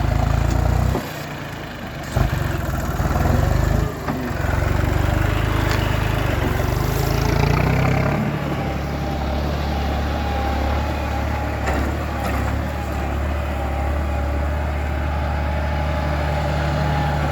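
A John Deere 5050E tractor pushing soil to fill a pond, its engine droning loud and steady throughout with a few brief surges and clunks early on.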